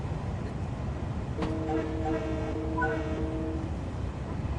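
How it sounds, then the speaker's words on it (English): A train horn in the video game Train Sim World VR: New York sounds once in a steady, sustained blast over a constant rumbling background, stopping after a couple of seconds. "you will need to sound the train horn"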